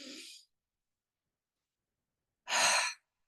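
Two breath sounds separated by a pause: a brief soft exhale, then after about two seconds a fuller, breathy deep inhale or sigh taken with a hand resting on the chest, close and clear.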